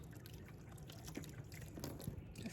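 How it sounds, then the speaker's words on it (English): Water is emptied out of a jar in a kitchen during homemade pasta sauce preparation, a faint continuous splashing and dribbling with scattered drips, heard alone at low level. "I'm going to empty the water out"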